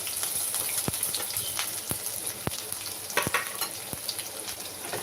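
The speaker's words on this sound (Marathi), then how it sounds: "आता तेल गरम झालं की यामध्ये बघा आपण दोन मोठे कांदे चिरून घेतलेले आहेत ते टाकणार आहोत" Two large chopped onions fry in hot oil with a steady, soft crackling sizzle. Sharp spoon taps against the pan land roughly once a second.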